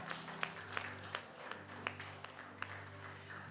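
Sparse clapping from a small audience, individual claps at a fairly regular pace over a sustained background tone, quiet and somewhat distant.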